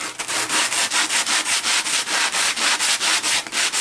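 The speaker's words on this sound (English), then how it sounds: "Gonna do some final sanding here with the sanding block." Rapid back-and-forth rasping of a sanding block worked over a first-generation Toyota Sequoia TRD Pro grille, steady rhythmic strokes close up and fairly loud, with no talking.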